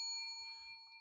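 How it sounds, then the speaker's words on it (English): A single bright bell strike rings out and sustains with steady metallic overtones, slowly fading across about a second, alone over faint background. "Just ring the bell."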